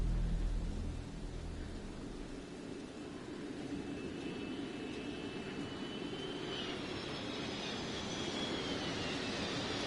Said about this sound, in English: How many planes are flying over?